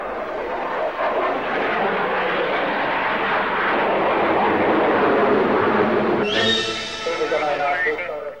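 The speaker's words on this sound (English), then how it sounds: "An interesting display was put on by a Singleton aircraft." A single Soviet aircraft flying a display, a steady roaring engine drone that holds for several seconds, then brightens into a sharper, higher whine near the end, loud and continuous, with someone narrating over it.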